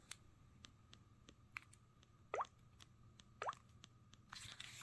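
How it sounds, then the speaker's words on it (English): A Samsung Galaxy phone plays water droplet sounds: faint, sparse plops and drips, with two slightly louder watery blips among soft clicks over a low background hum. "Enjoy water droplet sounds."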